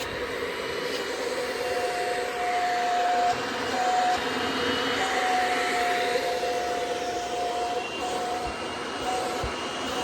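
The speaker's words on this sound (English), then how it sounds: "So I can basically vacuum the blanket without, well, kind of, but it would have sucked it a bit more if it was on the normal setting" A Kirby Ultimate G Diamond Edition vacuum cleaner running on its weaker delicate setting over a blanket, giving a steady, even whir with a faint tonal hum and no talking.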